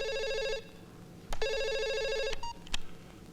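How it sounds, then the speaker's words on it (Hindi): A telephone rings in a Hindi comedy film scene, giving two loud electronic ring bursts separated by a short silence, followed by a few sharp clicks as if the handset is picked up. "फोन आएगा खुद समझ में आ जाएगा आपको"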